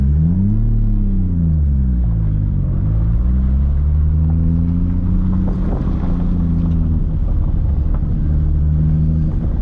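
A Toyota Supra MKIV engine roars through a hard pull, loud and close from inside the car, its rumbling pitch rising and dipping through gear changes under steady wind noise.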